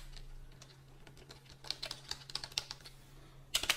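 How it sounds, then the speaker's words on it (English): Someone types on a computer keyboard into a Jupyter Notebook, with quick irregular key clicks that grow denser midway and end in a louder final press, close and fairly quiet. "let me just first enter a markdown cell and type that"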